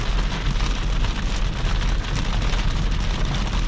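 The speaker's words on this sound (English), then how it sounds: "You don't really feel that you are driving in the like tropical downpour" Heavy tropical downpour drums steadily on a moving Mercedes C-Class, a dense, loud, unbroken wash of rain with a deep road rumble underneath and no talking.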